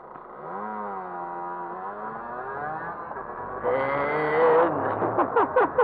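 A petrol-engine car runs close by, holding a steady, loud drone that rises in pitch as it revs up, then pulses unevenly toward the end.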